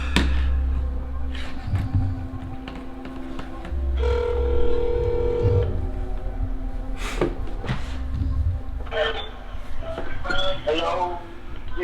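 An outgoing phone call rings through with repeated ringback tones in a steady on-off pattern, under voices talking over it.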